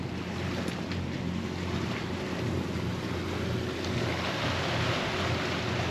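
Sailboat motoring under engine at 2000 rpm between Martinique and Guadeloupe at about six knots, a steady low engine drone blended with constant wind and water rush, loud and unbroken.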